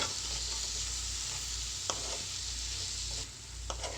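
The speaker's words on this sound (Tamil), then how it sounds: "ஒரு தடவை கிளறி விட்டுக்கோங்க." Chana masala with tomatoes sizzles steadily in a pan while it is sautéed, and a few soft scrapes of stirring sound over the constant close frying hiss.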